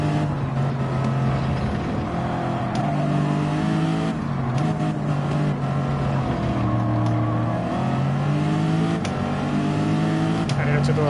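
A racing car laps the Nurburgring in a video game, its engine whining loudly as it revs up and drops through gear changes and braking, with steady rising and falling tones.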